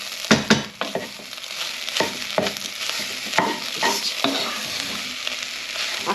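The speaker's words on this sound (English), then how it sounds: "Now I do like to cook out the tomato puree a little bit because it is concentrated." Tomato puree sizzles and fries in a hot pan for a spaghetti bolognese, with a utensil scraping and stirring through it in repeated close, clattery strokes over the steady hiss.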